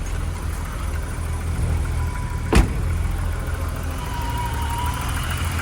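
A car engine with a too-rich fuel mixture runs steadily at idle, a low continuous rumble close by, with a brief sharp click partway through.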